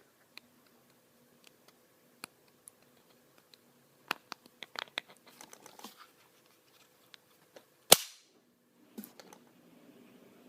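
Taurus PT111 Millennium Pro pistol being handled, with the trigger eased forward until the slide releases: sparse small clicks and ticks, then one sharp louder metallic snap near the end, close and quiet, with no talking.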